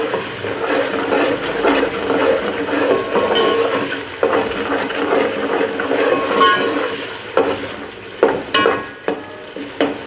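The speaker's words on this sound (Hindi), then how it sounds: "अब हम आंच जो है वो तेज़ कर देंगे और उनको अच्छी तरह से भून लेंगे।" Tomatoes frying on high heat for a beef yakhni pulao, a dense steady sizzle with stirring scrapes close up, loud and continuous, with a few sharper clatters near the end and no talking.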